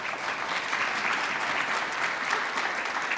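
A room full of people gives students a steady, even round of applause at a Huron Valley Schools board of education meeting, the clapping dense and moderately close, running alone without a voice over it.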